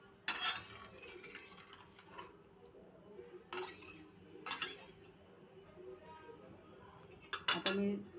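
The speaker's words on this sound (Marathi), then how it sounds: "आता मी थोडंसं याला कंटिन्यू हलवायला लागते, कारण अशाच छोट्या गाठी होण्याची शक्यता असते" Thin besan batter stirred in a kadhai with a metal spoon, quiet scraping and clinking strokes in irregular bursts, ending in a louder clatter.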